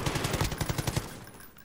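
Automatic gunfire in Call of Duty: Warzone, a rapid burst of about a dozen loud close shots over roughly one second, then a fading tail.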